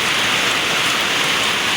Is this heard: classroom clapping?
no